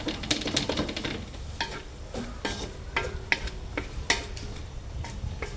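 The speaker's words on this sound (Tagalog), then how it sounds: "Gisa-gisa mo na." Shrimp and green peas sauté in a pan for a Filipino valenciana, with quick clattering stirs of a spatula over a steady sizzle, close and brisk, no voices.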